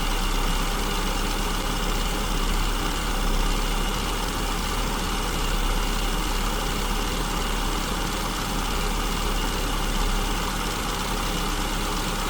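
A car engine fitted with an SU carburetor idles steadily during an idle mixture adjustment, giving a smooth, even low rumble up close with no talk over it.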